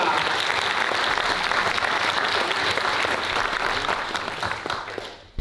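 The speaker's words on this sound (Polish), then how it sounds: "Wanda Marcińska, mama Tomka, wielkie brawa!" An audience at a book premiere gives long, dense applause, with many hands clapping steadily and loudly throughout before it stops abruptly near the end.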